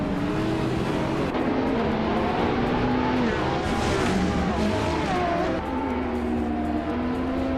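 A 2020 Porsche 935 and rival race cars roar off the start line in a racing video game, engines loud and close with rising revs and a brief surge of acceleration, no talking.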